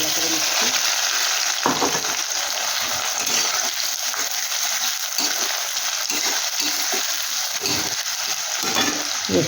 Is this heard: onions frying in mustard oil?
yes